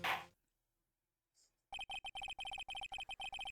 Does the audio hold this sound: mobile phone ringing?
yes